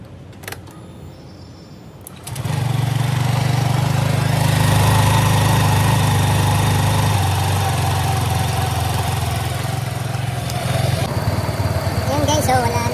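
A motorcycle engine with a newly replaced cam chain tensioner starts after a quiet moment and settles into a steady, loud idle close by, with a constant low hum throughout.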